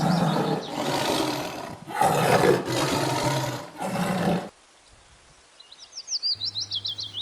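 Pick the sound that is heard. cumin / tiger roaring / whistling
tiger roaring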